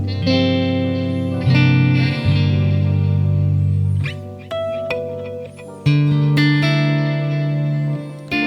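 A distorted electric guitar, both pickups on, played through a Chase Bliss Brothers AM boost pedal, rings out in sustained, thick chords with a gritty, boosted tone, changing a few times and blending into one dense sound.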